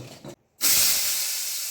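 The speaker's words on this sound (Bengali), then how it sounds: "এবার আমার তেলটা গরম হয়ে গেছে আমি প্রথমে আলুটা দিয়ে নেব" Potatoes dropped into hot oil while frying for a vegetarian potato-and-eggplant paturi set off a sudden loud, steady hiss that holds strong to the end after a brief quiet moment.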